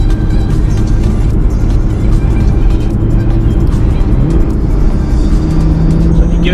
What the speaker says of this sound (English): Get a nice grumble from the engine,